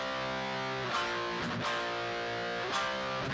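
Distorted electric guitar power chords, each chord picked twice with a small gallop added in the middle, chugging steadily with sharp re-pick accents and nobody talking over them.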